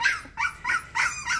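A young puppy from a litter of seven lets out a run of high, thin whimpers and yips, about five short cries in quick succession, close and clear with no talk.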